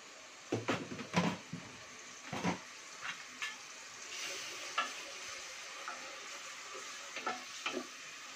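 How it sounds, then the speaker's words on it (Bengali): Chicken fries in a pan for fried rice under a soft steady sizzle, broken by several close scraping knocks of a spatula stirring, quiet overall and without speech. "আমি ফার্স্টে চিকেনটা ফ্রাই করে নিব"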